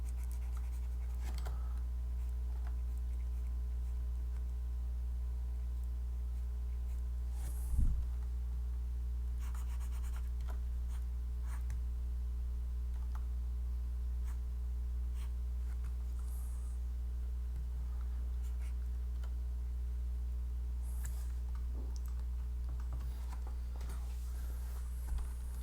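Pencil drawing on paper produces soft, intermittent scratching strokes and light taps close to the microphone over a steady low hum, with no talking.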